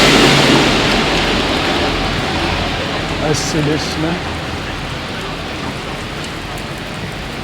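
Heavy December rain pours steadily in Beeston, Nottinghamshire, a dense hiss of drops loud at first and easing slightly, with a tram nearby and a person speaking briefly over it.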